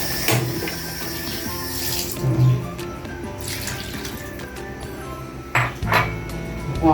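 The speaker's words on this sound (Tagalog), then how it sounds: "Ay, lalagyan ko na ng tubig." Water poured into a cooking pot of coconut-milk stew with kamansi and string beans, a close splashing trickle with light metallic clinks of the pot.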